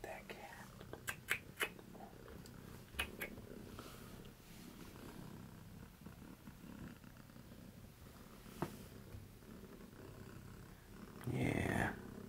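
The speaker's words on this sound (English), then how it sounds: "Now it's just purring. Look at that cat." Cat purring after eating a full can of food on a ranch, a soft continuous low rumble heard up close, with a few clicks and rustles and a louder burst of noise near the end.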